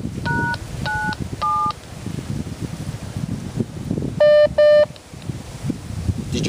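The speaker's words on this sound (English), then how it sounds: "Two lower beeps, the boop boop, that means this unit is locked out." Several short two-tone DTMF keypad beeps in quick succession on a radio repeater, followed by two louder, longer lower lockout beeps, over a background of soft rustling noise.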